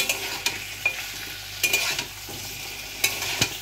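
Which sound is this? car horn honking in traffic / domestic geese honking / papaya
papaya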